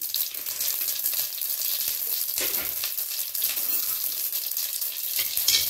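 Mustard seeds and whole coriander sizzle in hot oil for a tomato-onion chutney, making a steady, loud, close crackling hiss that runs throughout without any talk.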